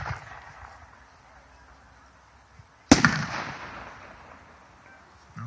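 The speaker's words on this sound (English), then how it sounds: "they're all individual 4-inch shells fired left and right" A 4-inch fireworks shell, part of a celebration fireworks demo, launches and bursts with one sharp loud boom after a quiet stretch, then crackles and rumbles as it fades, with faint voices in the background.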